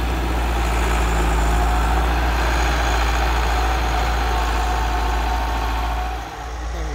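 A Massey 385 tractor with a newly fitted engine idles close by, a steady, heavy, low rumble throughout that dips briefly near the end.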